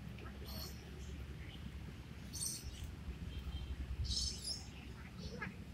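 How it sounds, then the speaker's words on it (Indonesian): Small birds chirp in short, high bursts at a bird cage where pigeons are kept, moderately near and scattered over a low, steady outdoor rumble, with faint voices in the background. "Itu kandang burungnya, guys, kata Malik."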